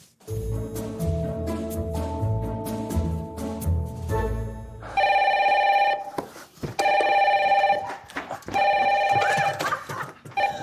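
A telephone rings on a French reality-show set, with a tinkling melodic tone followed by three loud, sustained bursts of electronic ringing separated by short pauses, heard alone.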